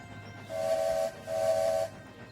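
Steam engine's whistle in a railway station, sounded as two long sustained blasts with a short gap between, over a low rumbling hiss of the engine pulling in.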